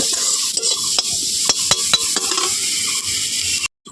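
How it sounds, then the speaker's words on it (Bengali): Shrimp filling for momos sizzles in a hot pan while a utensil stirs it, scraping and tapping the pan in irregular knocks over a constant frying hiss. It cuts off abruptly at the end. "চিংড়ির পুরটা এটাকেও আমি হালকা হাতে মেরে ভেজে তুলে নেব"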